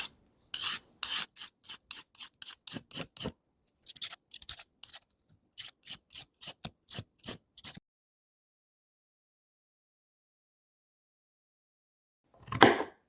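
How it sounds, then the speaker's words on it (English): Parsnips and carrots are scraped with a regular peeler in quick rhythmic strokes, close and crisp, in two bursts of a dozen or so rasps each, then a long silence and one final scrape. "I'm just starting by peeling the parsnips and carrots with a regular peeler"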